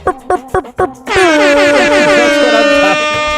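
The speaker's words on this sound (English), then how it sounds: "I'm glad that you brought the air horn" A loud air horn blast with a long sustained blaring tone follows several short sharp knocks or claps in a podcast studio.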